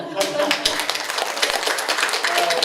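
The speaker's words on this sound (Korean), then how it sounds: "명사님께 박수 한번" Applause for a guest speaker at a Won Buddhist talk concert, a dense, steady patter of clapping from the audience that fills the whole moment at moderate loudness, with some voices mixed in.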